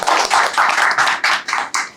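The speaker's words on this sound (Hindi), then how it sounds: "तो एक बार जोरदार तालियां हो जाए" A crowd breaks into clapping at an EV charger repair training class, a dense burst of hands that surges in several waves and stays loud and close throughout.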